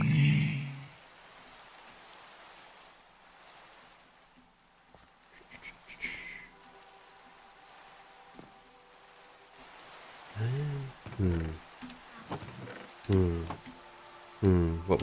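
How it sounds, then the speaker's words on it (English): Rain falls in the Minecraft world as a soft, steady hiss that runs the whole time, with voice-like sounds breaking in near the end. "of course I come back to rain"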